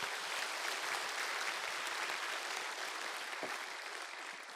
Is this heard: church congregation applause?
yes